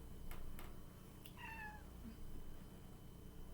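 A pet cat meows at home, a single drawn-out call with a falling pitch, fairly close and clear over a steady low background hum, with no talking during it.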